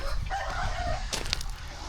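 Roosters and hens on a small backyard flock, a rooster crowing faintly at a distance amid low clucking and a brief flutter, with background noise and no talk.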